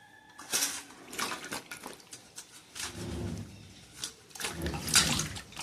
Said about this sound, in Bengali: পরিষ্কার জলটা এসছে, একটু হাতটা ভালো করে ধুয়ে দিই না পরে।